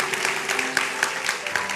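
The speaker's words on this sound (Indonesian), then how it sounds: "Kasih tepuk tangan untuk Tuhan yang percaya." Church congregation at a GMS Semarang worship service clapping together, a steady wash of applause with scattered sharper claps throughout, fairly close and sustained.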